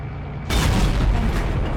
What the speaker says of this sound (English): Now, shooting, trying to hit the ammo rack.